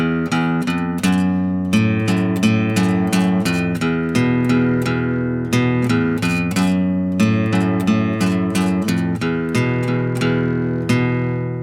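A guitar plays the repeating main riff of a song in plucked notes and chords, steady rhythm, close and clear with no talking.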